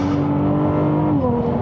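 A Ferrari 296 GTS engine, paired with its electric motor, accelerates hard in qualifying mode: a loud, steady engine drone with strong harmonics holds close and continuous, and its pitch dips slightly near the end as it shifts.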